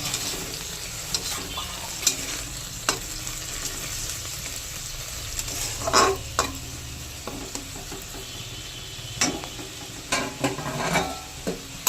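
Garlic and beans cook in a covered pan with a splash of water, a steady close sizzle broken by intermittent soft scraping and clinks from stirring, with no voices.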